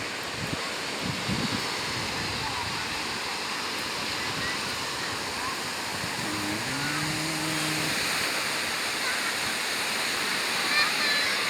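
Sea waves wash steadily onto Chao Lao Thong Saeng beach in Chanthaburi, Thailand, as a continuous broadband surf roar that also carries wind noise. Faint voices and a brief tonal sound come through partway.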